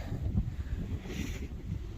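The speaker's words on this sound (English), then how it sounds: "It's a little windy" Steady wind buffeting the microphone while cutting firewood, a low rumbling roar with gusty fluctuations, no voices.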